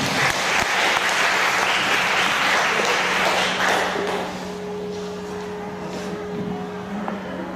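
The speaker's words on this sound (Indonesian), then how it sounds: "Kita sambut saja dengan tepuk tangan yang meriah kepada penulis kita, Mbak Yuliani." Loud, sustained applause fills a book launch for a budget travel guide to India and Nepal, a dense wash of clapping from a large audience that eases to a lower, steady level partway through.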